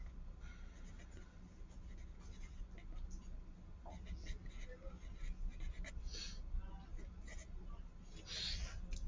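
Pen or marker scratching out a force diagram while working a physics problem on Newton's second law, soft intermittent strokes and taps, close and quiet, with no talking.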